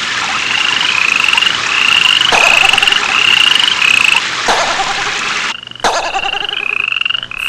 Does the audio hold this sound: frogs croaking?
yes